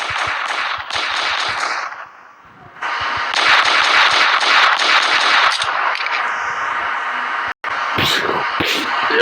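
Rapid gunfire from a pistol rings out in loud, dense bursts through most of the stretch, with a short lull near the start and a brief cut near the end; sharp cracks and scattered shouting or effects ride over it.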